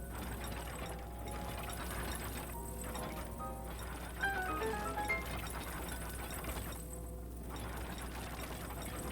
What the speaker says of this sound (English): Just gotta crank it. Gotta grind those gears.